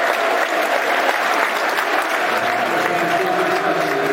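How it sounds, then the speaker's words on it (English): Stadium crowd in the East Stand at a Millwall versus Middlesbrough football match applauding a substituted player leaving the pitch, a loud broad wash of clapping with a faint voice and tonal crowd sounds underneath. "Taking the applause of the East Stands here in Fleming."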